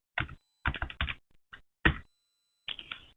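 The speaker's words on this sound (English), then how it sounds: "still again type the same password" Someone types a password on a computer keyboard. Short, crisp clusters of key taps come in bursts with brief silences between them, close and clear, with no talking.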